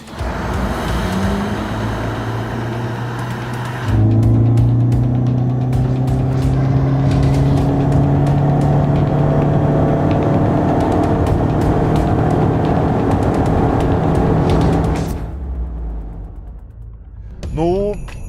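A Toyota Corolla GR Sport's engine revs hard during a 0–100 km/h run, climbing steadily through several gear shifts, loud and close, then drops off as the car eases to a stop.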